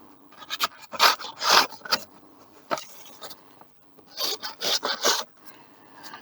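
A dull knife saws through material in short rasping strokes, several quick scrapes in two bursts, close and fairly quiet.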